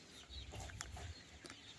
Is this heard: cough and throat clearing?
no